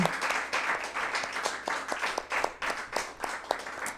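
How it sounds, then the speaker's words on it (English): Audience applause for the readers at a Green Kill Sessions reading night, a steady wash of many hands clapping with scattered sharper claps, fairly loud and close with no talk. "Can we get some more claps for everyone?"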